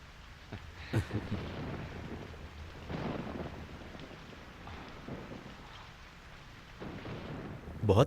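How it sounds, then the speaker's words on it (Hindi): A steady, heavy downpour hisses continuously, with occasional low gusty rumbles beneath it; no voices. "बहुत तेज बारिश हो रही है"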